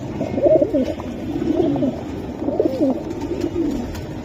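Pigeons coo steadily, with several birds overlapping in soft, rolling, throaty calls. They sound close and continuous in a pigeon seller's market setting, with no clear speech.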